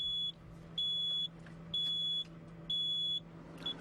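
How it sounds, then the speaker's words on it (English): An excavator quick coupler's warning buzzer sounds after the attachment unlocks, giving four steady high-pitched electronic beeps in an even on-off rhythm, close and clear over a low engine hum. "a buzzing sound can be heard to warn you that the attachment is now unlocked"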